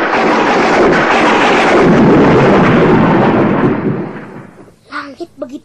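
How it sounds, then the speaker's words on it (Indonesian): A loud, long rumble of thunder from a clear sky rolls on for several seconds, then fades, and a voice begins speaking as it dies away. "Langit begitu cerah, mengapa ada petir?"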